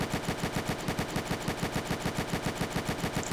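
Rapid automatic gunfire from a Roblox open-world building and PvP game, a steady stream of evenly spaced shots repeating for several seconds, loud and close, with no talking.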